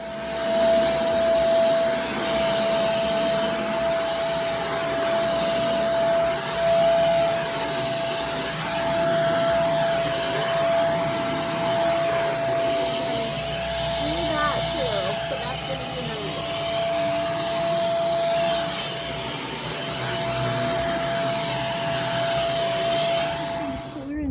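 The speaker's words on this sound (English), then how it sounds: "I'm going to vacuum up here before I move it." A vacuum cleaner runs steadily with a constant whine while cleaning a front room bookshelf, with a voice talking intermittently over the hum.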